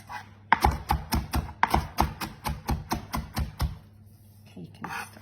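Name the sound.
knife finely cross-chopping coriander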